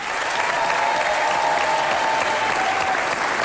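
Studio audience on a French TV variety show claps in a loud, sustained burst of applause, even and unbroken throughout.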